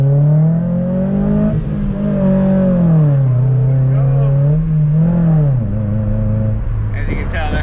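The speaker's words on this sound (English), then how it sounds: "As you can tell, that's Alex's exhaust." A Nissan 350Z's aftermarket exhaust drones and revs, a strong low engine tone rising and falling in pitch close up, with a voice talking over it.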